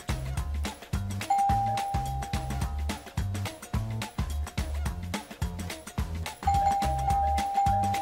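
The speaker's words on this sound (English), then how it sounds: "This is a doorbell, and this is what it sounds like." Household doorbell chiming repeatedly in a steady two-tone ding-dong pattern, close and clear with no voices, each chime ringing briefly before the next.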